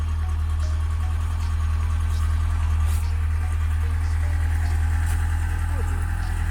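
A car engine idles steadily after an oil change, filter replacement and engine flush, with a loud, even low rumble running throughout and faint voices in the background.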